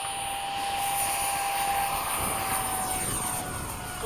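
A model airplane engine drones steadily through a takeoff, a continuous close, loud buzz with a high whine holding constant for the whole stretch, with no voices.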